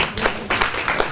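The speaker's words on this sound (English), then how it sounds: "I think that deserves an applaud" Audience applause of moderate loudness with a short irregular run of claps that swells in a few uneven waves and never settles into a steady rhythm.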